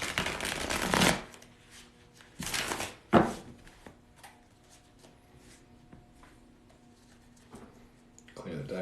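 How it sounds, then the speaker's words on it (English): Tarot cards shuffled by hand in a few brisk riffling bursts with short gaps between them, close and fairly quiet, followed by softer handling sounds. "We're going to shuffle once."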